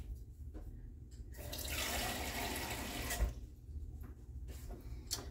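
A kitchen tap runs water into a cup while meal prep is underway, a steady splashing rush lasting a couple of seconds, with quiet kitchen handling before and after.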